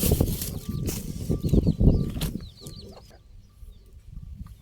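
Farmyard chickens, a hen among them, cluck in short repeated calls over rustling and brief clatter, nearby and fairly loud at first, then fainter with light chirps.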